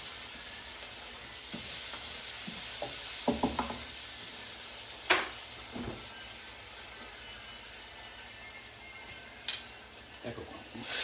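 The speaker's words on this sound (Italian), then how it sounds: "aggiungiamo il vino" White wine goes into a hot pan for a fish soup with gurnard, sardines, shrimp and cuttlefish, giving a steady sizzle broken by scattered clinks and scraping stirs, close and fairly quiet.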